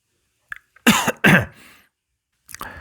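Two harsh coughs close together, loud and near, with a short throat-clearing sound before and another rough cough after a pause.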